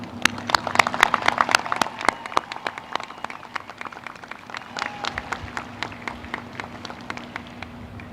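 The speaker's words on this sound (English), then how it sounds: "May I have a round of applause for the class of 2021." Crowd applause for the class of 2021 at a CAST Tech High School graduation ceremony, with dense, sustained clapping across the whole stretch that thins slightly toward the end.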